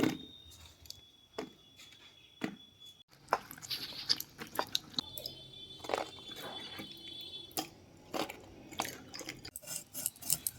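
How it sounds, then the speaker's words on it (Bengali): A knife slicing pointed gourd (potol) on a board, a series of crisp, irregular cutting clicks and snaps up close, fairly quiet, with soft handling noises between the cuts and no talk. "এইভাবে আমি কেটে নেব সমস্ত পটলগুলো"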